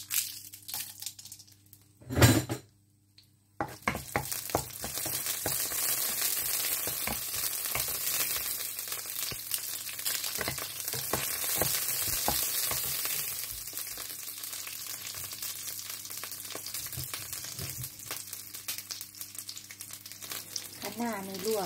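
Chinese kale is stir-fried in a pan with a loud, continuous sizzle and crackle, broken by scraping and tossing noises. A sharp burst comes first, followed by a brief quiet gap before the frying begins.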